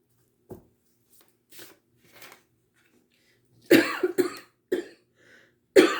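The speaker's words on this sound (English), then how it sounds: "somebody's there with a cough" A person coughs several times in short, separate bursts, with quiet pauses between them. The first coughs are soft and the later ones are sharper and louder, close to the microphone, and nobody speaks.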